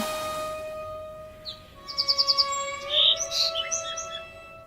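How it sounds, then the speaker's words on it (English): Caged pet bird singing as a radio drama sound effect, a run of quick chirps followed by a bright warbling trill, clear and close over a faint sustained tone, with no voices. "the cage in which her pet bird sang"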